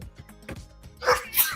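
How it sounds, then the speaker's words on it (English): One sudden sneeze bursts out close to the mic on a morning radio show, right after a short stretch of soft background noise. "That was a sneeze."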